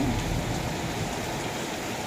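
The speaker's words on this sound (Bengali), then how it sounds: "ভীষণ খুব খুব জোরে বৃষ্টি হচ্ছে" Heavy rain pours down steadily, a dense, loud, continuous wash of falling water with no voices.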